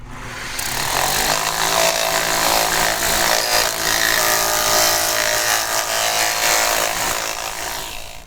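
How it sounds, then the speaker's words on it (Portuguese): A bamboo cup sanded with 120-grit sandpaper, a loud continuous rough abrasive rasp that holds steady for several seconds, close up, with no talking. "Agora então nós vamos passar para o copo, passar a lixa 120 no copo também."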